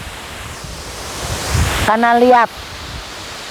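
Roar of a large waterfall heard up close below a high cliff: a steady, loud rushing wash that swells slightly before someone briefly speaks over it near the end.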